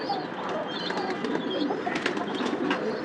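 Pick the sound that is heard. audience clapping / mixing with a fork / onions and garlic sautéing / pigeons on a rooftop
pigeons on a rooftop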